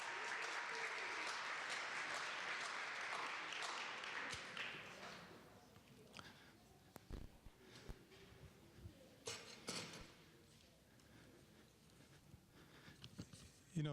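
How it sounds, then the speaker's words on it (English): Applause from a talent-show audience fills the first four seconds loudly, then fades into scattered claps and thuds as a performer leaves the stage. "Come on, let's give her another round of applause as she leaves."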